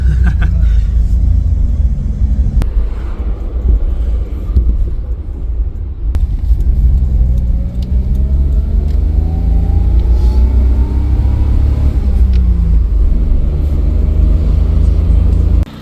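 A Damas minivan on a test drive after an engine overhaul, its engine humming and rumbling steadily from inside the cabin, with rising whines as it accelerates through gears and a few knocks from the road.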